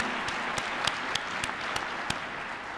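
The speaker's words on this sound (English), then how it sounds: "So round of applause for Janet." Steady audience applause at a residency program directors and preceptors town hall, a dense continuous patter of many hands with a few sharper claps standing out, fairly distant and even throughout.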